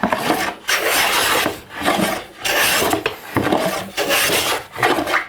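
A hand plane shaves a twisted wooden board in repeated strokes, about six rasping passes separated by short pauses, close and loud with no talking.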